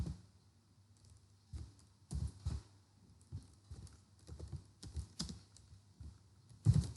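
Someone types comments into a Python file in the VS Code editor on a computer keyboard, producing quiet, irregular clusters of close key clicks with short pauses between bursts.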